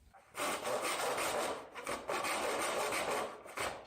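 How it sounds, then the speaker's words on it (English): Unneeded plastic is trimmed off a car airbox on a Ford Focus ST. It makes close, loud scraping and rasping strokes in several bursts, with short pauses between them. "we can carefully trim off the unneeded plastic"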